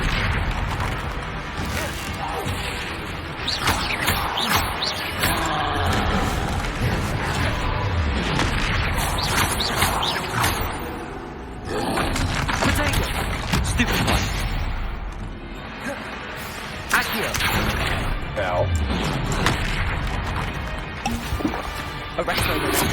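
Spell blasts and impact bursts from combat in the video game Hogwarts Legacy, including fire and explosive spells, crashing loudly and continuously over a dense battle mix with incantations spoken throughout.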